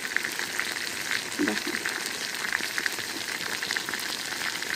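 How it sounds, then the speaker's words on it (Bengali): Moong dal frying in oil in a pan gives a steady, even sizzle throughout, with a few soft clicks of stirring and a brief spoken word partway through. "তোমার ডাউলও কিন্তু আমার ভাজা হয়ে গেছে মোটামুটি মা"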